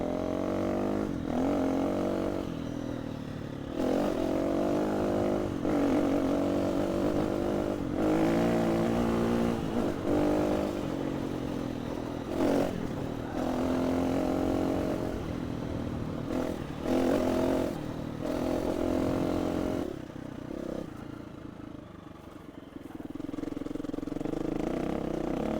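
A small 350 dirt bike rides along a back trail, its engine droning and revving steadily close by, with pitch rising and falling as the throttle changes and a short easing-off near the end.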